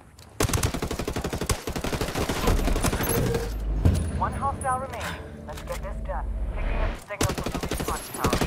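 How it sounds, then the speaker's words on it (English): Heavy automatic gunfire rattles in Ghost Recon Wildlands, with rapid sustained bursts at the start and end and a lull in the middle where voices speak over scattered shots. "Taking fire!"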